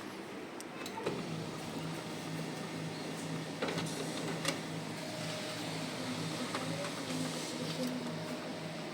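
A printer runs through a print job at close range, a steady mechanical whir with faint clicks and rollers feeding a page, under a low room hum.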